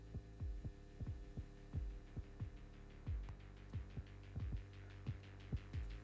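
A secret low hum in the VR game Gorilla Tag throbs in slow, irregular heartbeat-like pulses over a steady droning tone, quiet and alone, with no voices.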